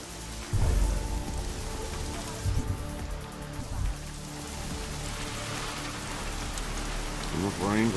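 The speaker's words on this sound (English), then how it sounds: "Enough rain to drown a duck." Steady heavy rain in the video game Deus Ex: Mankind Divided, a dense continuous patter on surfaces with occasional low thuds and gameplay sounds over it.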